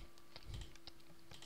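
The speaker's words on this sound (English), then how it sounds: "Okay, when I hear typing," Faint, quick keystrokes tap on a computer keyboard in a few scattered clicks beneath a steady low hum.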